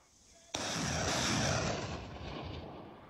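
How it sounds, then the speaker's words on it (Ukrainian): Weapons fired by soldiers at a frontline position in eastern Ukraine: a sudden loud blast opens into a sustained, dense roar of gunfire that rolls on and slowly fades, close and harsh with no voices. "Бійці стріляють короткими серіями."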